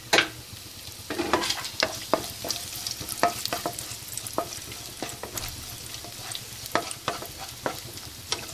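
Raisins fry in hot fat in a pan while being stirred for unnakkaya, a continuous sizzle broken by frequent close, sharp scraping and tapping strokes of a spoon, with no voices.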